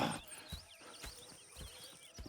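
Horses at camp in Red Dead Redemption 2, with soft hoof clops and stamping at an irregular pace, faint and close, plus brief snorts and bird chirps in the background, no talking.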